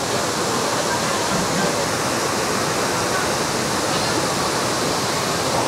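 A waterfall at night in Furong ancient town roars as a loud, steady, unbroken rush of falling water that fills the whole scene with no other sound standing out.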